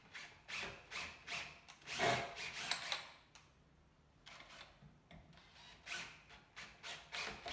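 A power drill drives a screw into wood during a sanitiser-station build in short, repeated whirring bursts. The bursts stop for a brief pause in the middle and then start again. The sound is close but fairly quiet, with no talking.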